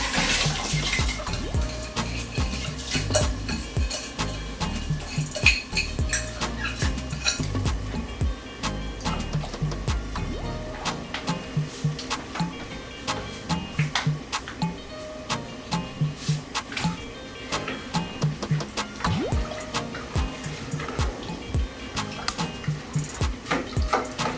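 Jasmine rice washed in a pot under running water, a continuous splashing flow with repeated clinks and scrapes of grains and metal, close and busy throughout.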